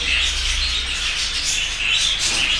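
Home-bred budgerigars chirp in a steady, busy chatter of high tweets throughout, with no voices.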